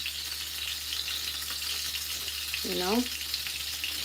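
Meatballs fry in a pan with a steady, dense sizzle and crackle that runs throughout, while a person briefly speaks partway through.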